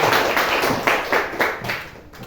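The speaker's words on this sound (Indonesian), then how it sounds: "beri tepuk tangan dulu untuk kita semua" A small group of students claps in a few short bursts at a school event, with a rhythmic, patterned feel rather than continuous applause, then trails off.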